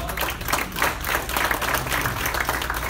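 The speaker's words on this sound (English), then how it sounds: "So let's give Paul a round of applause." An audience at a gathering breaks into a round of applause, a dense steady patter of many hands clapping close by for the whole stretch.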